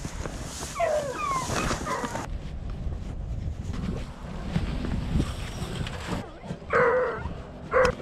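Hunting hounds out in windy desert country on a mountain lion hunt, with mules nearby, give short whines and barks in bursts, heard amid steady wind noise buffeting the microphone.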